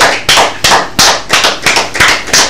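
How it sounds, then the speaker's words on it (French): Scattered, separate hand claps ring out in a quick uneven rhythm as a comedian makes his stage entrance on a Togolese television culture show; the claps are close and sharp, with no talking over them. "Merci de l'applaudir comme il se doit."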